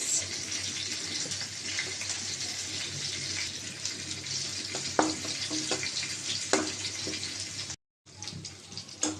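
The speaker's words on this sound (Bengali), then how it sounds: "এটা এখন আমি বাগার দেব দিয়ে দিলাম রসুন কুচি আর দিয়ে দিলাম পেঁয়াজ" Chopped garlic and onion hit hot oil as a tempering for a radish dish, producing a steady, close sizzling hiss with a few soft clinks and a brief break near the end.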